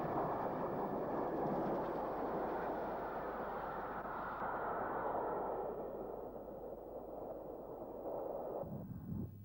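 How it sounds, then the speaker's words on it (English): A rebuilt West Country class steam locomotive heading to London Waterloo gives a steady, loud rumbling roar that slowly fades, ending in a short clatter, with no voices. "A rebuilt West Country class locomotive heading to London Waterloo."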